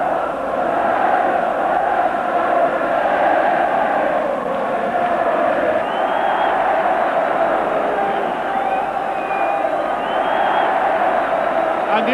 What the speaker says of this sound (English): As the stadium erupts in sound, swirling scarves, dancing supporters.